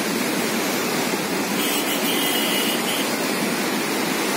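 Flooded Kalisindh river in Jhalawar during heavy rain, a dense, continuous roar of rushing water filling the whole stretch without pause.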